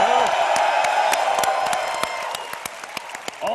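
A live crowd at EVE Fanfest cheers for team TQ, a loud sustained roar with whoops and scattered claps that gradually fades, close and dense.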